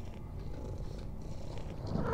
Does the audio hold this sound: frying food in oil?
no